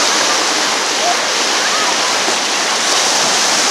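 Sea waves at Guanaqueros beach in Chile, a loud continuous broadband rush of surf and churning water, steady and close throughout with no distinct breaks.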